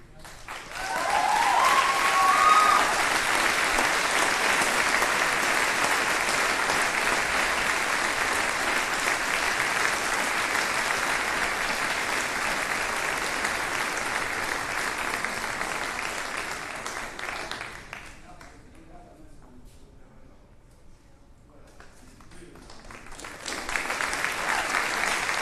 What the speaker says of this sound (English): Everybody's going to clap.